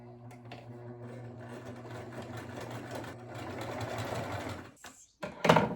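A home sewing machine stitches fabric with a steady, fast mechanical whir and hum, running continuously at close range before stopping, followed by a brief clatter.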